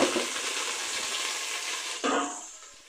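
Chicken feet sizzle and fry in a pan with browned onions, a steady hiss with a fresh burst of crackling as more pieces go in near the end, close and alone.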